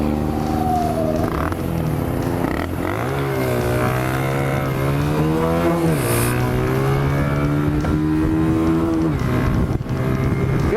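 A Sinnis Scrambler motorcycle accelerates at the Isle of Man Classic TT, its engine note climbing repeatedly through rising gear pulls, loud and close, with wind rush and no speech.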